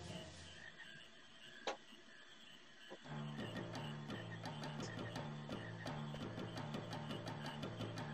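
Rhythmic frog croaks from Final Fantasy IX repeat steadily at a quick pulse over a low looping game melody, starting after a short quiet stretch with a single sharp blip.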